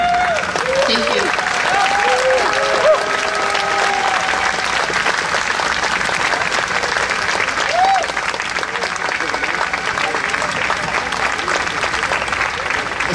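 Sustained crowd applause at a San Diego Pride rally, dense clapping with scattered whoops and cheers that stays steady and loud throughout, with some voices mixed in.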